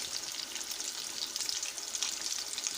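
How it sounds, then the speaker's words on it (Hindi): Potato snacks deep-frying in oil until golden brown, a dense, steady bubbling sizzle with fine crackles, close and continuous throughout. "इसको हम गोल्डन ब्राउन होने तक इसको हम फ्राई करेंगे।"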